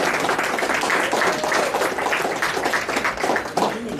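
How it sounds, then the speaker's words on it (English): A crowd at the podium of a touring kart championship gives steady, dense applause at close range, with no voices rising above it. "Let's give a round of applause for our overall podium."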